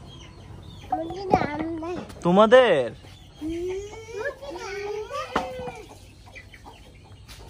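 A chicken outdoors in the late afternoon gives a few short clucks amid children talking and calling out nearby, the voices dominating over the bird.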